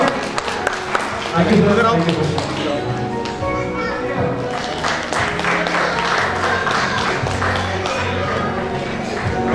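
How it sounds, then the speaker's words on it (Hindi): Clapping from a festive Teej celebration gathering at a railway division event, loud and close, mixed with children's voices, thumps and talk throughout. "तालियां तालियां तालियां।"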